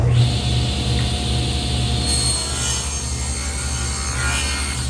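A table saw making repeated passes to cut a dado in wood for a dowel-joint furniture jig, a steady loud motor whine with a continuous cutting rasp throughout, no talk.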